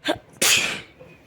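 One close, loud sneeze: a brief intake followed by a sharp explosive burst that trails off quickly.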